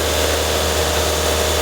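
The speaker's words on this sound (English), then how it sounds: "I'm going to have Keith go ahead and shut the engine off." A car engine running steadily, a loud, continuous drone with a broad airy hiss and no speech.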